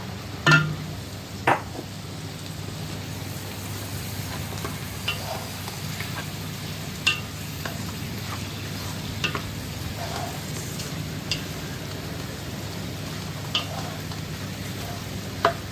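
Unripe jackfruit for biryani sizzles steadily in a pan, a constant close frying hiss broken by occasional scrapes and light clinks of stirring, with no talking.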